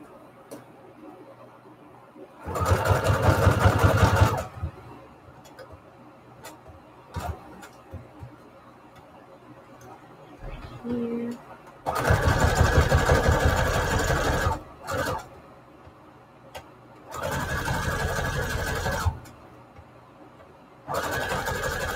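Sewing machine stitching paper photo banners, running in four loud bursts of a few seconds each with quiet pauses between, close by.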